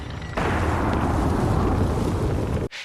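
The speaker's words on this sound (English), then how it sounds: "Hearing the gunfire" Tank cannon fire sound effect, a single heavy boom that erupts abruptly and rolls on loud and sustained for over two seconds before cutting off.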